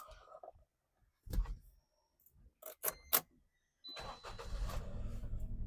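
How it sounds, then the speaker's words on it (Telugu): A 2017 Maruti Celerio ZXI automatic petrol car self-starts with a brief crank, then settles into a steady idle that runs to the end, nearby, after a few scattered clicks and knocks. "కార్ ఒకటే సెల్ఫ్ స్టార్ట్ అయిపోయింది, ఎలాంటి స్టార్టింగ్ ట్రబుల్ లేదు."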